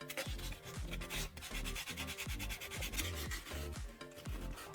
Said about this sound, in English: use sandpaper to polish the metal surfaces